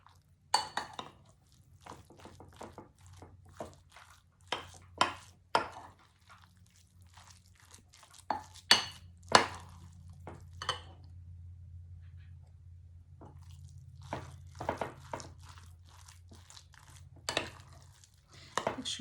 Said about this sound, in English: Make sure you get it all stirred in from the bottom up as well.